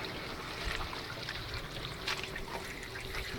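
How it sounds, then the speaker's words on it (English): Water from an aquaponics radial flow filter pump trickles and splashes out of a pipe end in a soft, steady flow, quiet and continuous with no talking. "starts coming out from this end of the pipe."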